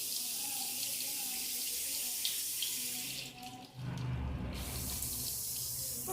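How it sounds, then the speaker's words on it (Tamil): Water gushes steadily and forcefully from a newly installed pillar tap into a sink, a close, continuous rush that briefly dips in the middle before resuming at full strength. "இப்போ நம்ம வந்து தண்ணி திறந்து விட்டோம்."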